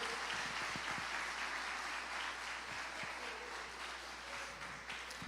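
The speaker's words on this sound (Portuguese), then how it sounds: "Bate palmas para Jesus" A church congregation claps for Jesus, a dense, steady wash of applause that fades slightly toward the end, with no voices standing out.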